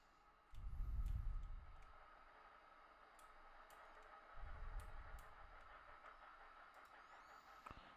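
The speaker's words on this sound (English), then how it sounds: "Nice beefy cold quarry train." A heavy quarry freight train rumbles by in the Transport Fever 2 video game, with low deep swells over a steady mechanical hum and scattered ticking clicks.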